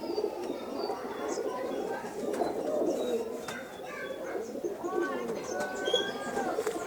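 Pigeons coo in a busy outdoor pigeon market in Kolkata, with low murmuring coos and scattered chirps over a steady crowd din, and people talking in the background throughout.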